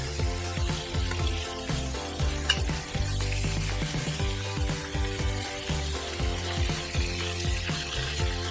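Homemade beef taco meat browning in a pan, sizzling loudly and continuously up close while being turned over, with repeated rhythmic scraping and stirring strokes throughout.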